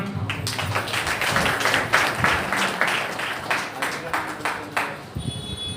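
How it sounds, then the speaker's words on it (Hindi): Audience at a community savings society award ceremony in India applauds as a member comes on stage to receive a gift, steady dense clapping throughout with some voices mixed in. "तालियां।"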